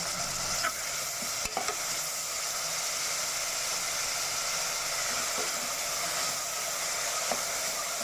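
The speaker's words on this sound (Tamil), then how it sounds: "உப்பு சேர்த்ததுக்கப்புறம் இது நல்லா புனியமாக வதக்கி எடுத்துக்கலாம்" Chopped onions and green chili with rock salt sautéing in a pan for a chicken salna, a steady broadband sizzle with occasional stirring scrapes and clicks, close and continuous throughout.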